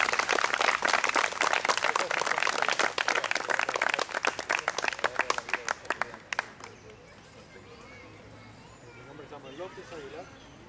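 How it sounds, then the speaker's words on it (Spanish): Group applause closing a tai chi practice gathering, loud and dense with sharp individual claps for about six seconds before tapering off into quiet room noise. "Un aplauso para todos."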